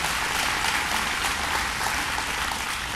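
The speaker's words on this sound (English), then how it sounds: "Let's give her a round of applause." An audience at a government funding announcement in Rochester claps steadily, a dense even patter of applause filling the room with no voices over it.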